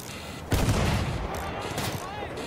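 Gunfire in Battlefield 1 during a tank mission, a loud burst of rapid shots and a heavy boom at once, then continued crackling fire at a steady level.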